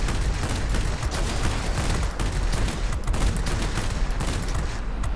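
A MiG-9 jet's guns in World of Warplanes fire in a long, dense, unbroken burst that stays loud and continuous the whole time, with no voices.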